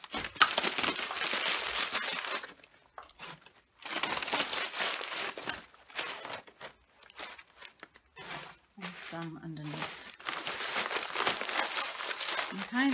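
Newspaper being crumpled and stuffed into a chook sculpture form, with close, loud crinkling bursts in steady bouts and brief pauses, and a voice speaking briefly between them.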